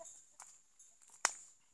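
Chickens clucking at a rural farmyard with livestock, faint scattered short clucks with one sharper louder call near the end, distant and sparse over a quiet background.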